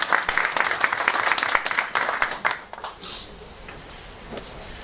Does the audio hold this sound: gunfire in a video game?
no